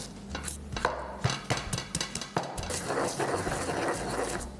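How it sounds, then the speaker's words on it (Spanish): Garlic cloves with coarse salt ground in a mortar: irregular knocks and scraping strokes of the pestle, some sharper taps, close and continuous without speech. "Para prepararlo con mortero voy a usar ajos, dientes de ajo, un poquito de sal gruesa para ayudar a molerlo"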